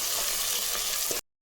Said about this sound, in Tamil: வெங்காயம் நல்லா சவுண்டு வரட்டுங்க.